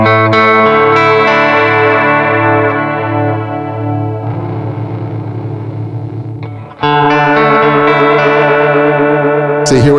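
An electric guitar runs through an ADINEKO delay pedal set to its maximum delay time with a slow vibrato, giving loud sustained notes that waver and echo. The sound drops back briefly, then a fresh strum rings out.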